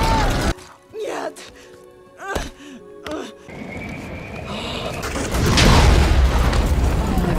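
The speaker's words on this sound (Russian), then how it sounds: "Энергетическая пушка." Whooshing, swooping tones build up before a loud, roaring dragon energy-cannon blast in the animated film How to Train Your Dragon 2 erupts and swells, sustained and booming to the end.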